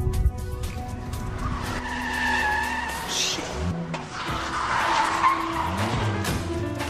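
A car skids during a police pursuit in a televised police drama, its tires squealing in rising and falling sweeps over a steady engine roar, loud and close, with no talk.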